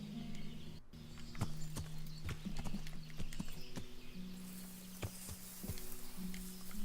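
Horse hooves in the video game Kingdom Come: Deliverance clip-clop in a steady walking rhythm, crisp and close, continuing throughout over a low background hum.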